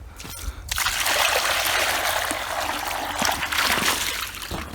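Water pours steadily from a jug in a close, hissing splash that runs almost the whole clip after a short thud at the start, outdoors on a frosty night.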